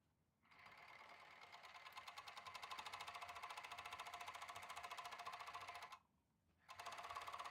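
A sewing machine stitching denim jorts, a fast steady mechanical chatter running for about five seconds, pausing briefly, then starting again; close, clear and alone without talk.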